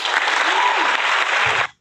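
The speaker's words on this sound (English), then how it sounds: "Give him a round of applause." A short, loud burst of applause rises at once and cuts off abruptly after under two seconds, with a brief voice near the end.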